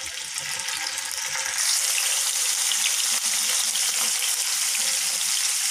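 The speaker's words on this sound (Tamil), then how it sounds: "ஷாலோ ஃப்ரை தான் பண்ண போகிறோம்" Paneer cubes shallow frying in oil in a pan make a dense, even sizzle that grows a little louder partway through and holds steady throughout, with no voices.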